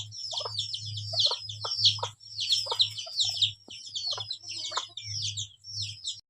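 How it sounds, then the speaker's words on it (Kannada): Backyard hens and a rooster make repeated clucks and squawky calls in short bursts, close and fairly loud, over a low steady hum. "ಒಂದು 7 ಕೋಳಿನ ಅದಾವ"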